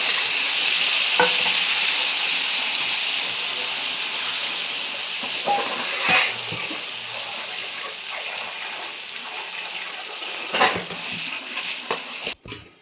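Steady sizzling of hot oil tempering as cucumber chutney is added, with occasional scraping stirs and a few sharp clinks, continuous and close throughout.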